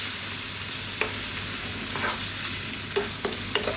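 Potato and coconut milk curry cooking in a pan over low heat, a steady soft bubbling hiss with a few light clicks and stirring taps, close and alone.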